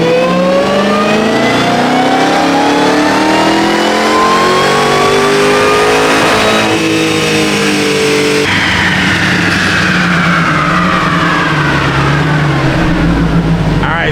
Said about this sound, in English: normally the first pull is always going to be the best because the engine's at its coolest